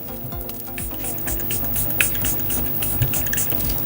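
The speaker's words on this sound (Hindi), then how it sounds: "और मैं अब सेटिंग स्प्रे इस्तेमाल करने जा रही हूँ शार्लेट टिलबरी की" Charlotte Tilbury makeup setting spray hisses out as a close, continuous fine mist, with faint clicks and small bursts across the spray.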